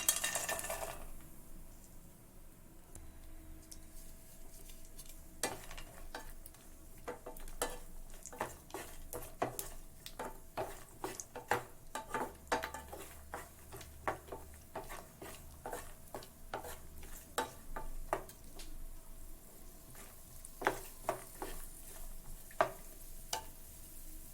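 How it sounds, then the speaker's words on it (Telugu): Almonds, cashews and raisins fry in ghee in a pan, a faint continuous sizzle broken by many quick spoon scrapes and clinks against the metal, steady throughout with no speech. "ఇందులోకి మనం కట్ చేసుకున్న బాదం, అలాగే కాజు, అలాగే కొద్దిగా కిస్మిస్ ఇందులోకి వేసి ఫ్రై చేసుకుందాం"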